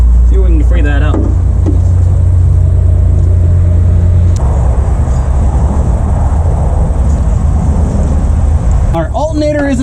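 An alternator with noisy bearings spins on a Ford Galaxie 500 left in a barn since 1993, giving a loud, steady mechanical drone and whir. A voice talks briefly at the start and the end.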